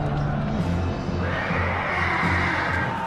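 Horses scream and whinny in a battle scene, shrill cries rising over a dense, loud din of tumult and low rumbling, with no clear speech.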